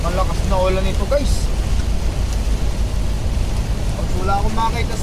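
Heavy rain drums on a moving truck, a dense, constant roar of downpour and road noise, with a voice briefly audible at the start and end.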